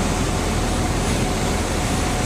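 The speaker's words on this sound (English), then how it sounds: "Landing runway 11 on a frigid day in Springfield" A light aircraft on a power-off approach to runway 11 at Springfield, Missouri, on a frigid day produces a constant loud broadband roar of engine and wind noise with no breaks.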